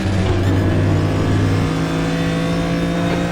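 BMW M1 Procar engine in the RaceRoom racing game at Interlagos, a loud, continuous engine roar with a steady droning tone that holds throughout.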